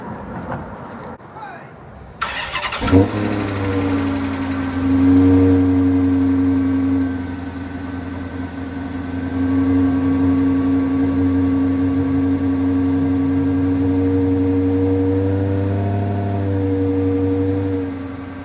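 An engine cranks and catches at once, then settles into a steady, fairly loud idle with a low hum and a higher whine, lasting to the end.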